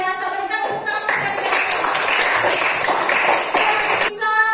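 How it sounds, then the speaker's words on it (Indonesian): A classroom of children bursts into applause, a dense spell of clapping lasting about three seconds, with an adult voice speaking just before and after. "Berikan tepuk tangan untuk"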